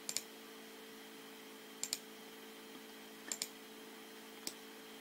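Four faint, sharp mouse clicks spaced a second or more apart while trimming sketch lines in FreeCAD, each a crisp isolated tick over a quiet, steady hum.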